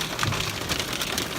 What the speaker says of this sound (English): we are stuck in the middle of a freaking major hailstorm